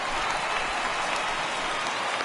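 A stadium crowd of over 36,000 in the MLB The Show baseball video game rises to its feet, giving off a dense, steady roar of cheering and applause that holds at an even level throughout.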